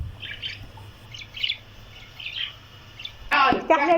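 Birds in a backyard enclosure chirping in short, repeated bursts of high tweets, with louder close calls toward the end.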